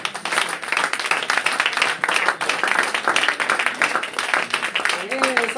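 Church congregation clapping and acclaiming Jesus, a dense continuous wash of applause with voices mixed in throughout, steady and fairly loud from start to finish.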